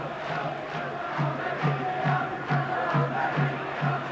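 Morecambe football fans in a stadium crowd at an FA Cup second-round match against Cambridge, a steady roar of voices with rhythmic surges of chanting repeating about every half second to second.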